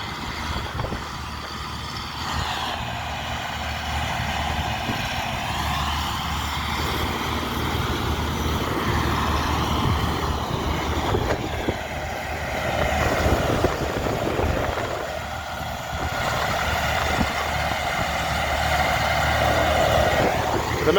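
Vintage tractors, an 8111 and a Belarus, working at silage, their engines droning and shifting in pitch as they labour nearby, with wind buffeting throughout.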